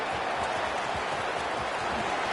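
A stadium crowd roars for a punt return at a college football game, MSU at North Carolina: a dense, sustained wash of cheering and applause that stays loud and steady throughout.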